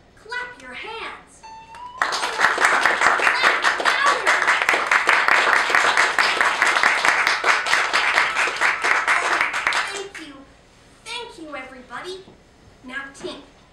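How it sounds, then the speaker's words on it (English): An audience at a marionette theatre show claps hands in a loud, dense burst lasting about eight seconds. Children's and puppeteers' voices can be heard before and after it. "If you believe in her, clap your hands."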